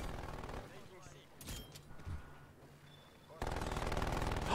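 Automatic sentry gun in the video game Call of Duty Cold War fires in bursts of rapid gunfire, loud and continuous at the start, thinning in the middle, then a heavy sustained burst at the end, with a voice talking over it.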